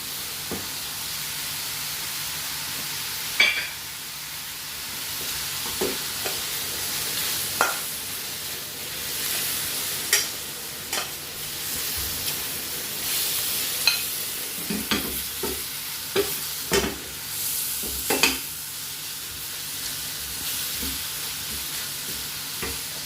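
Prawns with soy sauce sizzling and frying in a stir fry with ginger, chilli, lemon and vegetables, a steady hiss broken by repeated clacks of stirring against the pan, no voices.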